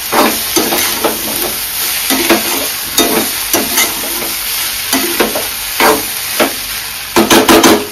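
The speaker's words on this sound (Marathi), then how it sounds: "आता मी हे झाकून काढून घेते आणि व्यवस्थित आपण परतून घेऊया" Moth bean rice tossed and stirred in a hot pan: steady sizzling frying under repeated scraping stirs and clinks, close and loud, with no voices.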